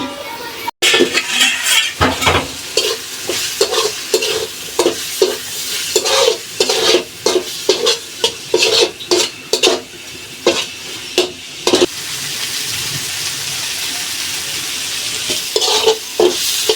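A spatula stirring dried chepa shutki fish bhuna in a pan, with loud repeated scraping and clinking strokes in an irregular rhythm over a constant sizzle, close up and without talk.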